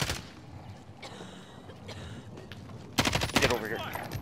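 Gunfire in the video game Call of Duty: Modern Warfare, scattered distant shots early on, then a loud burst of rapid automatic fire close by near the end.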